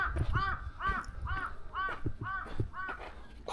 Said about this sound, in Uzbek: Qushlar qarg'al uchyapti.